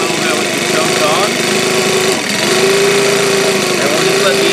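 A Senix gas leaf blower's small two-stroke engine idles loud and close right after its first start, holding a steady buzzing drone that dips briefly and then settles back into its rhythm.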